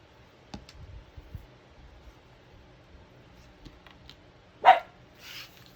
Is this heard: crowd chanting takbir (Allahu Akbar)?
no